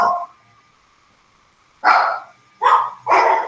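A small dog barks three sharp times near an open microphone during an online class, the barks coming in a quick cluster after a brief earlier yip.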